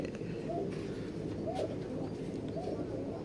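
Teddy pigeons of imported Omani bloodline, a young pair, coo softly in a few low repeated phrases against a steady background hum, with no clear talk.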